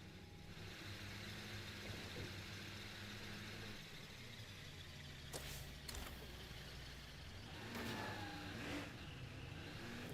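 Car engine in State of Decay 2, a battered zombie-survival vehicle driving steadily, with a continuous droning rumble and shifting engine tones, plus a few sharp clanks and bursts along the way.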